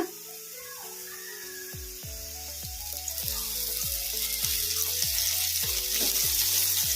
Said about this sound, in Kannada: ಈಗ ಟೊಮಾಟೊ ಕೂಡ ಫ್ರೈ ಆಗಿದ್ದಾವೆ